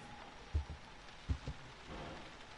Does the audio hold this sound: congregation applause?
no